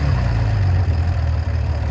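A 1980 Honda CBX motorcycle idles about half a minute after starting, freshly valve-adjusted and carb-synced, its steady low engine drone loud and close with no pauses.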